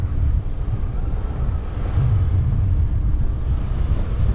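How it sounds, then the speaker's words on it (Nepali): Strong wind buffets the microphone outdoors on a hillside road near a monastery in Pokhara, giving a continuous loud, low rumble with uneven gusts and no speech. "अहिले चाहिँ हावा एकदम चलेछ"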